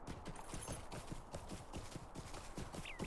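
Horse hooves galloping in the video game Lord of the Rings Online, a quick steady clip-clop rhythm that is fairly faint throughout, with no talk.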